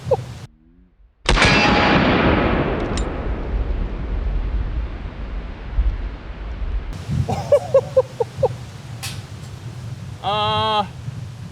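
A +P .45 Colt round fired outdoors from a Toklat .454 Casull revolver: one loud, sharp close blast with a long rolling echo that fades over several seconds, followed by faint voices and background sounds.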